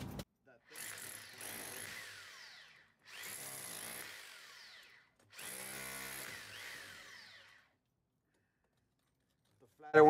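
Three separate bursts of harsh mechanical rattling from a hammer drill on hammer-only setting, removing bricks, each burst lasting about two seconds, with short pauses between them.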